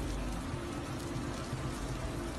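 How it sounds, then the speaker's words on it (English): Heavy rain falls steadily in Istanbul as a continuous dense hiss of drops, with no other sounds standing out. "heavy rain in Istanbul."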